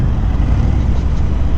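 A Harley-Davidson Fat Bob 114 motorcycle rumbles nearby with a loud, deep, steady low-end drone and no distinct rev peaks, mixed with road or wind noise.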